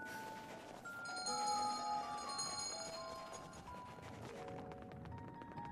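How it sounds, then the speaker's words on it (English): In Pikmin 3, a bell chimes in several bright, sustained ringing tones layered over game ambience and soft background noise, moderately loud and lasting several seconds. "That bell goes off way too early for my liking."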